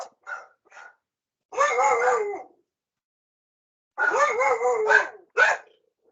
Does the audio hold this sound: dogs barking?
yes